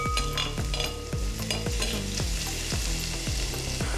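Garlic, ginger and spices frying in a pan, stirred briskly with a utensil in a rhythmic series of scrapes and clinks over a steady hiss.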